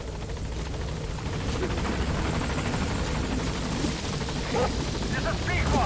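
Helicopter arriving at a landing zone in the video game Metal Gear Solid 5, a loud, steady rotor thump and engine drone throughout, with a radio-style voice speaking over it.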